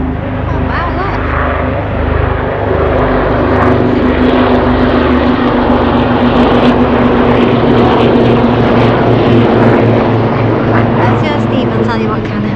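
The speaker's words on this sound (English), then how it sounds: "I'll tell you what kind of helicopters they are" Helicopters fly loudly overhead near Laggan Dam in the Scottish Highlands, giving a dense, continuous roar of engine and rotor noise that stays close and strong throughout while people talk beneath it.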